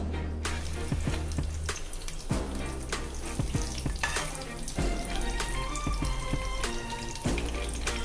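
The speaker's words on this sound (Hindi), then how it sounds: "वंस ये तेल गर्म हो जाए तो हम लोग कड़ी पत्ता यहाँ पे डाल करके अच्छे से मिक्स करेंगे।" Curry leaves hitting hot oil in a pan crackle and sizzle steadily up close, with sharp spits and pops and a few stirring clicks scattered through.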